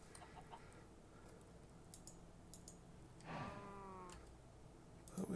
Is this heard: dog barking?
no